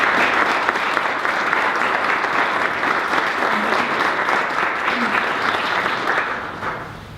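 An audience at a college news conference applauding to welcome a speaker, dense steady clapping that holds for several seconds and then begins to fade.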